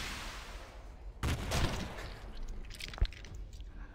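A rocket launch in the space tactics video game Stellar Tactics lands as a sudden loud blast at about a second in, with a rumbling tail and a sharp second bang shortly after, standing alone with no talk.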